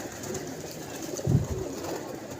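A pigeon, one of several kept and handled birds, gives a single soft, brief coo, faint against a low background hiss.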